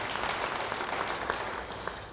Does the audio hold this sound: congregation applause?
yes